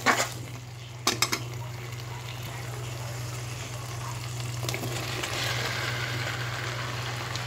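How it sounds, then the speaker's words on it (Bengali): Fried young jackfruit, tipped into a pan of spiced sauce with a pinch of sugar, is sautéed over low heat: a few sharp utensil clanks open, then a steady sizzle with stirring continues, and no voice is heard. "এইবার লো হিটে রেখে এঁচোড়টা কিন্তু আমি ভালোভাবে কষিয়ে নেব"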